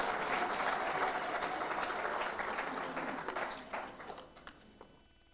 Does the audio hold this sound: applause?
yes